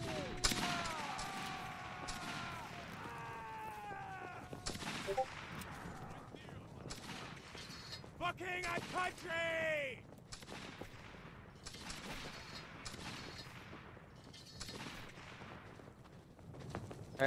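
Musket volleys ring out in the Roblox Waterloo battle game, with repeated gunshots and scattered fire at will over a long stretch, under voices calling orders and ambient battlefield noise.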